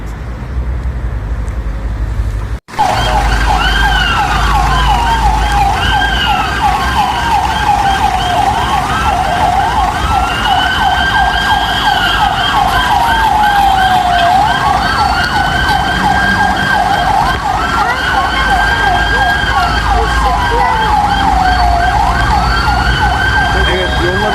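Ambulance siren wailing loud and close, a rising-and-falling two-tone sweep repeating steadily for over twenty seconds after a brief cut near the start, with steady background noise.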